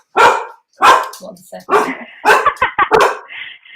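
A pet dog barks several times up close, loud sharp barks in bursts with quicker yips toward the end, while someone talks in between.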